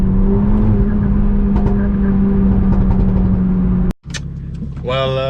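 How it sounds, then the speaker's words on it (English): Renault Megane RS Trophy R with an Akrapovic exhaust gives a loud, steady engine drone while cruising, cutting out briefly before a rising rev near the end. "it enhances that Akrapovic noise"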